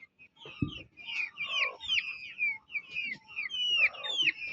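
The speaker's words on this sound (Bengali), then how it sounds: "বৃষ্টিতে আমার মুরগিগুলো ঝামেলার ভিতরে পড়ে যাচ্ছে।" Young chickens caught out in the rain give a steady run of high, rising and falling peeps and chirps, close by and fairly loud, with one brief low thump early on and no talk.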